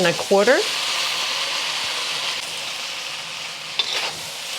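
Mee goreng noodles, about 1.25 pounds, stir-fry in a wok, giving a steady, close hiss of sizzling oil. A brief squeaky scrape comes at the start and a faint clatter near the end.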